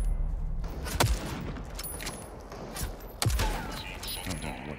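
Turret gun gunfire in the Super People battle royale video game, sharp shots near the one-second and three-second marks over a busy game soundscape with someone talking.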